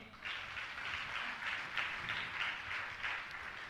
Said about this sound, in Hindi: जोरदार ताली बजावें